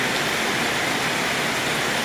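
Steady rain pours down outdoors in rural Thailand, a dense, even hiss with no gaps and no voices.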